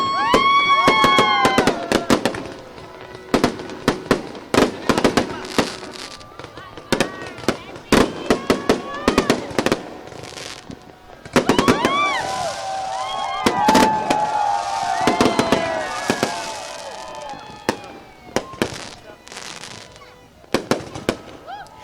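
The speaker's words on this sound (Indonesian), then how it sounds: "sekarang kita bakal melihat gimana kemeriahan pesta kembang api" A New Year's Eve fireworks display at a shopping mall in Bali, with repeated booms and crackling bursts, some whistling rockets rising, spread irregularly throughout, with faint crowd noise in the background.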